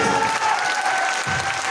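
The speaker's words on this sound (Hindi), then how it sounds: "जोरदार वाली तालियां" Loud, sustained applause from a large audience welcoming a motivational speaker, dense and steady throughout with a faint crowd murmur underneath.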